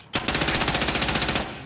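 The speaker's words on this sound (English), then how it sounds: "fucking shooting at me AI scavs I got wandering around" Rapid automatic gunfire from AI scavs in Escape from Tarkov, a single loud, fast, evenly spaced burst of about a dozen shots lasting just over a second.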